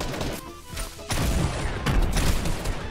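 Exotic weapons The Dub and Shadow Tracker firing in a video game match, a dense burst of loud, continuous gunfire and impacts that kicks in abruptly and keeps rattling to the end.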